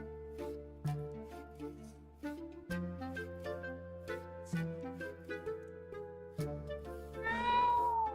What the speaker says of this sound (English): If he meows loud enough